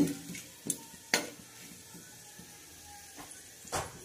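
Whole cardamom, cloves and a cinnamon stick are stirred in a hot pan, heard as quiet sizzling with several sharp scrapes and clinks of a utensil against the metal.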